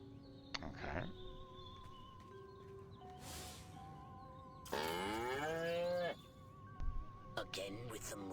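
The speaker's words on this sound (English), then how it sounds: "Again with the moo." A cow in the Destroy All Humans remake video game moos in drawn-out, wavering calls between clanks and other game noises, while voices talk around it.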